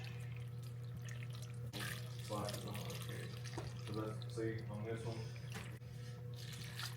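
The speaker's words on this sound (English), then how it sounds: "I'm going to pour in enough water till it's about an inch from the edge" Water runs steadily from a tap into a cooking pot of minced garlic in a home kitchen, a constant close splashing stream. Faint hum and clatter sit beneath it.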